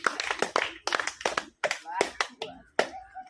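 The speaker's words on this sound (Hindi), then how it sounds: "ताली मारो।" Loud, close clapping from a group of people in a number-guessing challenge game comes in rapid, rhythmic bursts with short gaps, with voices mixed in.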